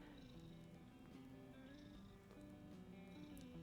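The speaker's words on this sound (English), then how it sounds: "I don't know if you can hear Charlie, but he's purring" Faint, close-up cat purring, a low continuous rumble with soft pulsing rhythm over a quiet background hum.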